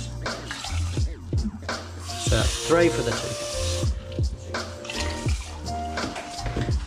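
Running water washes rice in a kitchen, splashing and swirling in bursts with a clatter of grains, while a person talks over it.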